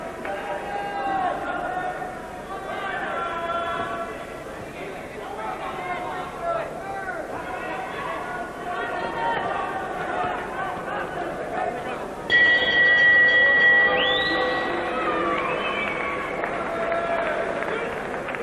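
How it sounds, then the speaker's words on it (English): A boxing arena crowd jeering the fighters during a heavyweight bout, a broad steady roar of voices and whistles under continuous commentary, with a sharper burst of noise late on. "some sections of the crowd giving the fighters the bird"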